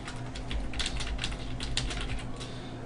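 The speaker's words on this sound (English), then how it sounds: "you can just double click on this text and start typing." Keys clatter on a computer keyboard in quick, uneven bursts of light clicks, close and clear over a low steady hum, with no talking.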